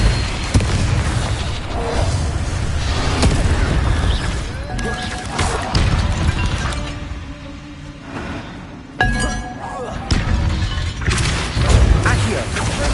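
A Depulso spell cast in Hogwarts Legacy releases heavy booming, crashing impacts in a loud, busy game mix, with a sharp blast near the end and a voice speaking alongside.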